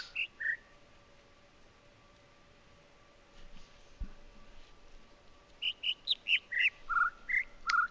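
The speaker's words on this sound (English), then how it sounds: "crashing out listening to bird chirps" Small birds chirp in short, high tweets over a steady low hum, a couple near the start and then a rapid run of repeated calls toward the end.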